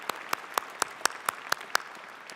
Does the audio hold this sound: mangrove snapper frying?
no